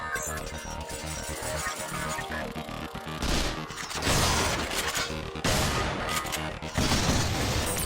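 Weapon fire in the video game Vanquish: dense, loud mechanical bursts and crashing blasts come in waves over a steady rumbling bed, with some voice mixed faintly underneath.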